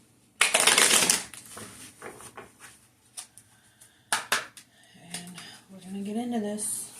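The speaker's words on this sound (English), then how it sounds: "I'm going to give it one more go around so you can see that they're shuffled." A tarot deck being shuffled by hand: a loud, close riffle burst at the start, then scattered card flicks and taps, with a voice speaking briefly near the end.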